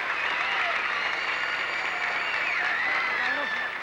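Audience applause welcoming a salsa singer on a TV show, a steady, fairly distant wash of clapping and crowd noise with faint cheers or whistles rising above it.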